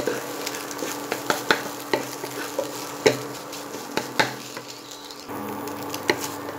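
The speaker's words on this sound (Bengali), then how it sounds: "ভালোভাবে ডিমটাকে ভেজে আমি তুলে নেব।" An egg mashed in a pan fries in oil with a continuous sizzle, broken by irregular sharp taps and scrapes of a spatula against the pan.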